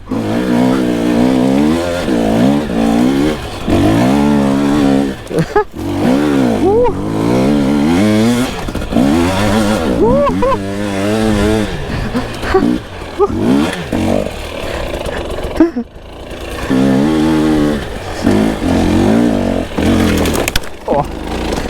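An enduro motorcycle accelerates hard off-road through the woods, its engine revving up and down repeatedly in close, loud bursts, with brief exclamations from the rider.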